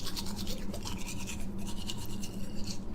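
Rapid scratchy bristle strokes of a toothbrush scrubbing in a steady rhythm, close and clear throughout, set within an animated horror story.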